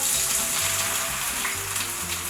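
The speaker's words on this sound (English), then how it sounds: "hear the sizzle" Olive oil sizzling and crackling in a hot pan for Sicilian caponata, a steady close-up hiss with occasional stirring sounds.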